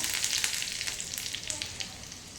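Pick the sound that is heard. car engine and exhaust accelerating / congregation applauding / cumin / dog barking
cumin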